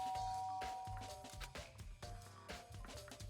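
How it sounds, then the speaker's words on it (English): Doorbell pressed in the video game Danganronpa: Trigger Happy Havoc, a chime heard over steady game background music, with its repeated tones standing out. "I pressed the doorbell."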